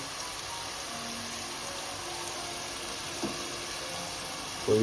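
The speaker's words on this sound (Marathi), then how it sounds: "परतून घेऊ मस्त" Masala paste sautéing in a pan for a crab curry, a steady even sizzle with a faint scrape or two near the end and no talking.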